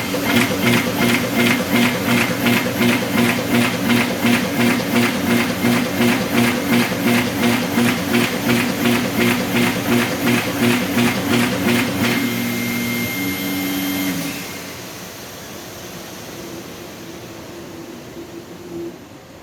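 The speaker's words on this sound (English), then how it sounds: "now we test, for example, to fold the sheets in the middle" A Bacciottini OXO Multiskill creasing and folding machine folds sheets down the middle, a loud, steady mechanical run with a fast, regular pulsing beat that stops after about twelve seconds, leaving a quieter hum.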